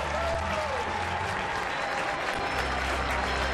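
Clapping from the opposing dugout during a baseball game, steady scattered applause mixed into a broad stadium crowd din for several seconds.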